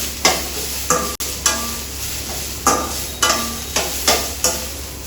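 Onions frying in a little oil for a sprouts fry, under a soft steady sizzle, with sharp periodic scrapes and clacks of a spatula stirring against the pan, close by.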